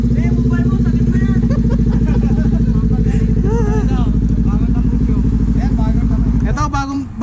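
A big Yamaha XSR motorcycle with a new aftermarket exhaust runs loud and close at a steady, throbbing idle with light revs, over a crowd at a café bike meet. Voices chatter underneath until the engine note drops near the end.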